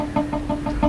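A chicken caught in a small cage clucks in quick, evenly spaced bursts, close and clear over a steady background hum.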